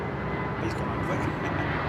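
A continuous roar of Rolls-Royce jet engines, loud and broad, as a Boeing 787 Dreamliner passes fairly close with no letup at London Heathrow Airport.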